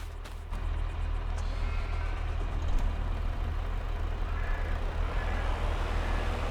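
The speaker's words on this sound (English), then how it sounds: "let's move the truck with the wool on it" A truck in Farm Sim 22 drives with a steady, low engine rumble and a constant drone. It is fairly loud and continuous, with a brief air-brake-like hiss at the start and no talking.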